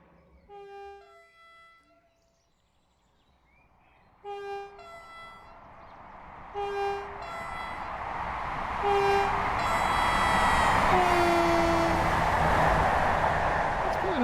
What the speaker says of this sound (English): Let's get way up ahead and let's see what the horn sounds like.